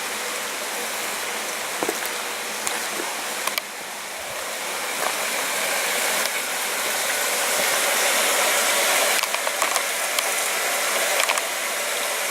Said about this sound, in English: A little water coming out there